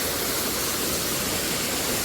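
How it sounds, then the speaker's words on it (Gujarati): Cold water rushes down from above beside a rough mountain road on the way to Kedarnath, a loud, dense, unbroken hiss and roar close by with no voices. "મિત્રો આવી રીતે પાણી આવે છે"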